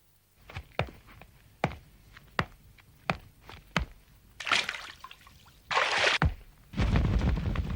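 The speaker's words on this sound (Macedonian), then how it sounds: "Вода." Water gushes in short bursts between scattered knocks and taps, loud and close, with no talking.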